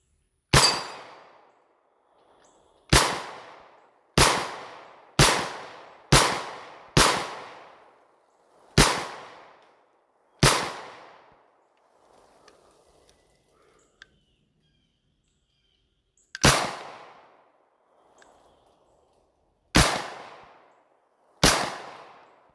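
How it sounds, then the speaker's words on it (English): Manchester Arms Mini Commando Mark 45, a Tommy gun clone, fired in single shots: about a dozen loud, sharp reports with ringing decay, spaced irregularly, with quick runs of shots separated by a longer pause. "it's almost better to shoot this thing one-handed"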